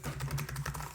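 Rapid, uneven key clatter from an iClever wireless keyboard for Windows and Mac, a steady run of soft, close taps with no voices.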